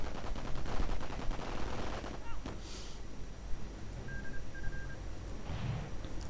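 Rifle and sniper fire in a strategy video game battle, scattered gunshots and bursts of automatic fire over a rumbling, noisy battlefield background, moderately distant.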